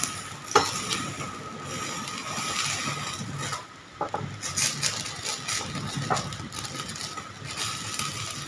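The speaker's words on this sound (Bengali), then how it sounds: "এখানে বেগুনটাকে ঘুরিয়ে ফিরিয়ে পুড়িয়ে নেব" Eggplant is turned over and roasted in a pan, with intermittent scraping and shifting noises and a few light knocks over a low, steady sizzle.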